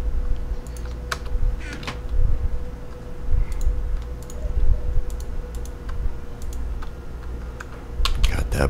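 Computer keyboard keys are pressed hard in quick, uneven bursts of sharp clicks and taps during Minecraft Hunger Games play, close by over a steady low background hum.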